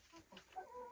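Farm chickens cluck close by in a few short, throaty calls, one rising into a brief higher squawk near the end, with no speech.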